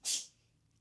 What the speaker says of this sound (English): My cat sneezed.